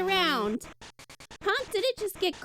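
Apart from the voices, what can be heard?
No everyday noises stand out.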